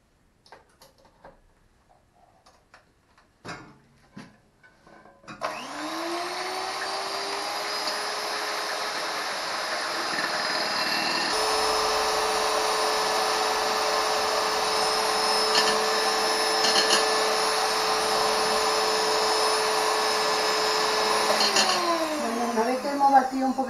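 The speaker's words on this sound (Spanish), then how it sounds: "pues batimos los huevos" An electric mixer beats eggs for rosquetes lebrijanos. After a few clicks and knocks it starts with a rising whine, then runs loud and steady before winding down at the end.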